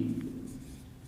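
A pen scratches briefly across paper, close and soft, for about a second.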